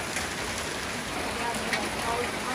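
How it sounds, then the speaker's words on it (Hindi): Rain falls steadily during a hailstorm in Uttarkashi, a continuous dense patter and hiss at an even level throughout, with faint scattered taps within it. "देखो बारिश हो रही है"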